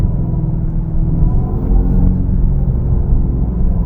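A Dodge Charger Daytona EV accelerates hard from 40 to 60 mph, giving a loud, steady low rumble with road and wind roar inside the cabin and no break in the sound.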